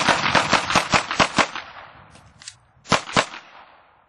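Pistol shots ring out in a timed tactical shooting drill: a rapid, loud string of shots, a brief pause, then a few more quick, sharp reports nearby.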